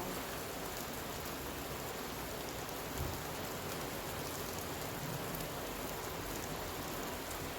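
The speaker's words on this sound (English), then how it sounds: "it's starting to rain now" Steady rain falls outdoors, a dense even hiss of drops hitting surfaces that lasts the whole stretch. It stays constant, with no voices, and a faint low rumble comes through briefly.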